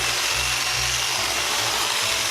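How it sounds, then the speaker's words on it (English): Power tool running steadily while pruning a holly shrub, a continuous loud motor drone with a fluctuating low hum throughout, no voices. "Who doesn't like power tools?"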